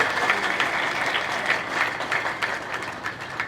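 Lively applause from a gathered village crowd in Mandothi, Jhajjar, welcoming newly commissioned lieutenants: dense, steady clapping close by with scattered sharper claps and no voices heard.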